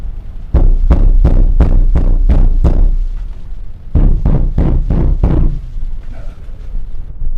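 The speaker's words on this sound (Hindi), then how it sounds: "दरवाजे पर आवाज कुछ देर तक आती रही। शायद वो अपनी दरवाजा तोड़ने की कोशिश कर रहा था।" Heavy pounding on a door as someone tries to break it down: a fast run of seven loud thuds, a short pause, then four or five more forceful blows before it trails off.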